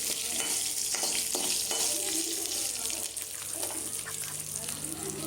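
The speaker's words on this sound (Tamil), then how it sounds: "வெங்காயம் இதெல்லாம் போடணும் இது நல்லா ஃப்ரை ஆகணும் லைட்டாக கிண்டிக்கணும்" Chopped onions and garlic fry in a pan for a Brahmi leaf chutney, giving a steady, close broadband sizzle with a few scraping stirs near the start.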